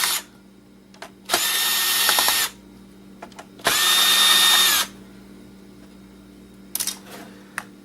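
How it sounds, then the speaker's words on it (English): A power screwdriver backs screws out of an old laptop, two sustained whirring bursts of about a second each, close and loud, followed by a brief third burst and faint handling clicks in between. "Let's get all these screws out."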